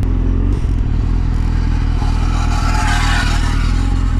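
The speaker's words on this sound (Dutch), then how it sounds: "Wow, die Renault klonk echt heel slecht." A Renault car engine running rough as it passes close by, a loud continuous rattling drone with clattering, scraping undertones.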